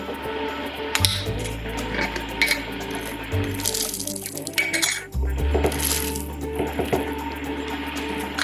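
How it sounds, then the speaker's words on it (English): Coffee beans poured into a home coffee grinder make a steady rattling, pattering cascade close to the mic, with a few sharper clicks of beans hitting the hopper and a low background hum. "We just buy local beans and put them in our grinder."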